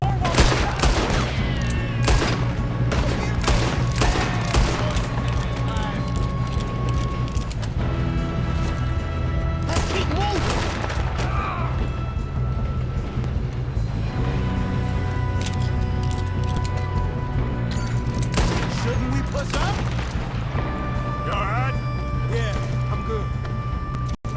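Rapid gunfire from firearms in the video game Red Dead Redemption 2 comes in dense bursts and single cracks, with horse hooves and shouted voices mixed in throughout a loud, continuous firefight.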